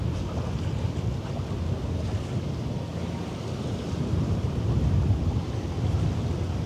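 Small container ship VW Saturnus, built 1978, passing on the Elbe: a steady low engine rumble mixed with wind buffeting the microphone and water wash, continuous and fairly loud throughout with no talk.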